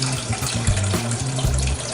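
Tap water pours steadily into a cooking pan being filled for poaching eggs, a continuous close splashing rush with no voices.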